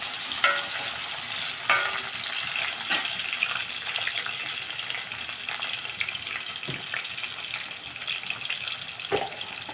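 Chopped onions and green chillies frying in a pan, a steady close hiss and sizzle with scattered clinks and stirring scrapes, no talk.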